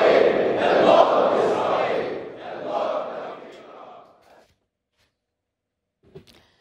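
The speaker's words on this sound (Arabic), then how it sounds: "ردد المصلون في مسجد الإمام الصادق في مدينة الدراز هتافات منددة" Worshippers in the Imam al-Sadiq mosque in Diraz, Bahrain, chant protest slogans together, a loud massed group of voices in rhythmic bursts that fade out after about four seconds, followed by near silence and a brief faint knock.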